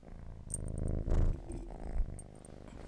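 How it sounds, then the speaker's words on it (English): A cat purrs close by in a steady, rhythmic low rumble that swells and fades with each breath, along with a few faint high clicks and rustles; no one speaks. "She's just purring."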